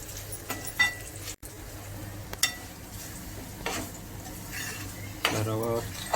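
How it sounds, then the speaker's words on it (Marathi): Semolina dry-roasting in a pan for sheera, stirred with a utensil: quiet scattered scrapes and metallic clinks over a faint background hum, with a slightly louder scraping burst toward the end. "रवा व्यवस्थित भाजून घेऊया."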